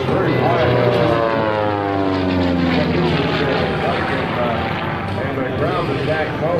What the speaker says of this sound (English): Allowing the airplane to accelerate, you can hear it.